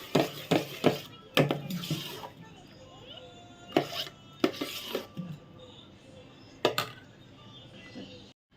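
Idli batter made from leftover rice being mixed in a steel bowl, with sharp spoon clinks and scraping strokes coming in irregular bursts separated by pauses, close and fairly loud.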